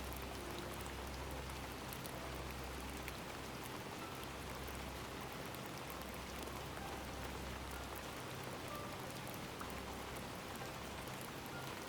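Steady rain falls hard in strong wind, a dense continuous hiss of drops on surfaces filling the whole stretch with no voices.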